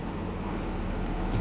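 Steady low mechanical rumble and whir of a washing machine on its spin cycle, droning evenly without pause.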